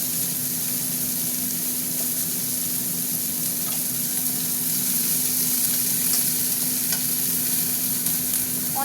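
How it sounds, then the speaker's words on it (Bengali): Onions and asafoetida frying in hot oil for a lentil and vegetable dal, a steady even sizzle close by with faint stirring, no voices over it. "এগুলো একটু ভাজা ভাজা হোক পেঁয়াজের সাথে, ঠিক আছে? ভাজার মধ্যে না একটু হিং দিয়ে দিলাম"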